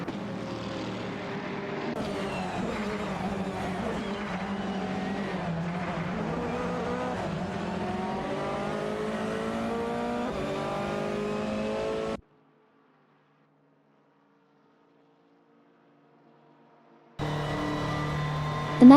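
A Lamborghini Huracan GT3 and other racing video game cars roar continuously at high revs, the engine pitch climbing and falling through gear changes. The sound then cuts to silence for several seconds before the engines return.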